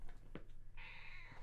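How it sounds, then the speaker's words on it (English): A house cat gives a single short, faint meow, rising briefly and trailing off in a quiet room with no talking. "Did you hear that little meow there? My cat disapproves of this slander."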